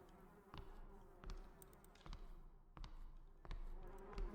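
Flies buzz around in the indie horror game The Tunnel, a faint drone swelling and fading in repeated close passes, with sharp clicks and taps between them.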